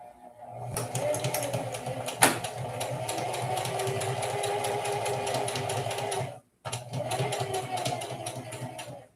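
A sewing machine stitches in a steady, close whirring run for about six seconds, pauses briefly, then resumes at the same even pace.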